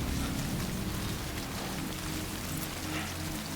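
Rain pours steadily in a continuous broadband hiss of drops striking surfaces, fairly soft and constant with no speech.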